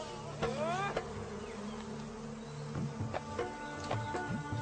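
Wild honeybees buzz around a hive deep in the Sundarbans mangrove forest of Bangladesh, a close, continuous drone with individual bees whining past in brief rising and falling passes.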